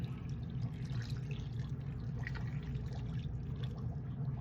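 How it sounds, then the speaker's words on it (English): Pickle juice pours steadily over beef shank in a marinade container, a continuous close liquid splash and trickle with no talking. "Pour it all over there."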